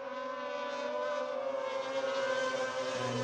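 Racing sidecars at Oschersleben during a world championship race scream past on a lap, a steady high-pitched engine whine that holds, slightly muffled and at moderate distance, no talk.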